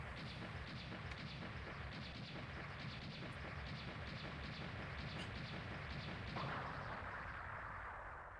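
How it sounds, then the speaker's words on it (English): Fireball launcher fire from Sigma in the video game Mega Man X2, a dense run of repeated booming blasts and whooshing bursts, steady and loud throughout with no talking. "I hate the stupid fireball launcher that he has here"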